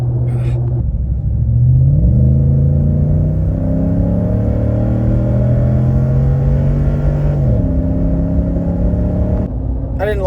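Ford Raptor pickup truck with rebuilt Fox shocks cruising on a road near home: a steady loud low engine drone with gear-like pitch shifts as it accelerates, shifting down near the end, continuous throughout.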